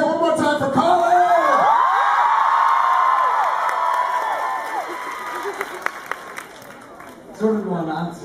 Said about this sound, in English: why don't you just keep screaming